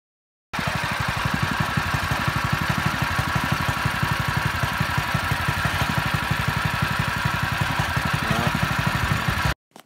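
A small 212 engine on a homemade drift trike, idling steadily on its first startup, with a loud, even, rapid putter that runs continuously for about nine seconds before cutting off abruptly.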